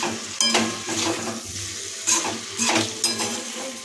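Vegetables being stirred with sugar in a pan on a gas stove: repeated scraping strokes over a steady sizzle, close and fairly loud, with a few louder bursts and no voices.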